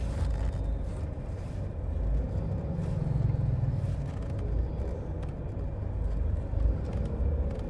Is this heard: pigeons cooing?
no